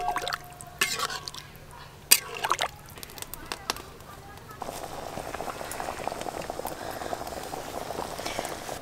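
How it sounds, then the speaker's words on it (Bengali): Fish curry broth with potatoes, for a rupchanda (pomfret) oil-chili curry, bubbling at a rolling boil, a busy wet burble of popping bubbles, with a few sharp clatters and a voice over the first seconds. "ঝোল একদম টকবকে হয়ে ফুটে গেছে।"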